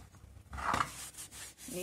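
A cloth rubs a washed cast iron kadai dry, giving a soft, close scraping swish that rises midway and trails into lighter rubbing.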